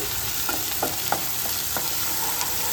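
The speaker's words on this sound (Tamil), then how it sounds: "நல்லா வெங்காயம் வதக்கட்டும் எண்ணெய் வந்து இன்றைக்கி நான் வந்து தேங்காய் எண்ணெய் போட்டிருக்கேன்" Onions sauté in coconut oil for a Kerala-style egg curry, giving a steady soft sizzle. Occasional light scrapes and taps of a stirring spoon sound against the pan.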